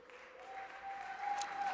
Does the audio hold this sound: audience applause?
yes